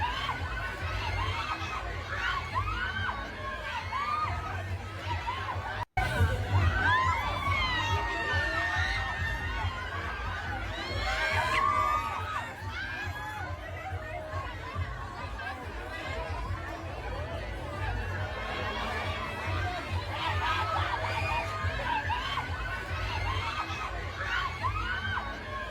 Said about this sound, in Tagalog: grabe yung sigaw